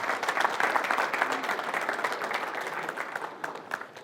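Clapping from a crowd at a big event's opening remarks, given to welcome first-time attendees, a sustained round of applause that stays steady and then thins slightly toward the end.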